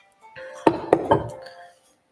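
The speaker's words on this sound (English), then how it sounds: "Hold on, I need a glass of water for this." Glass clinking while a glass of water is fetched: three quick, close clinks of glass against a hard surface, the middle ones ringing briefly, with a faint voice-like murmur around them.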